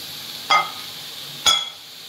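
Kharkol leaves stirred in a dry pan over high flame give off two short sizzling bursts about a second apart against a quiet background, close and fairly soft.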